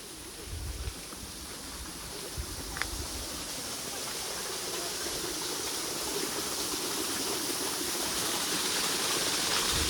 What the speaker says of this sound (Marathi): या बाजूला आपल्याला पाण्याचा आवाज येतोय इकडे छोटासा धबधबा आहे